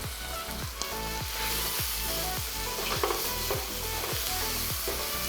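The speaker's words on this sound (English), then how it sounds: "Now the garlic and onion saute well." Chopped garlic and onion sauté in a hot pan, giving a steady, close sizzle broken by regular scraping stirs roughly every half second.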